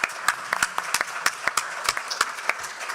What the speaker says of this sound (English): Yes, you can clap, go ahead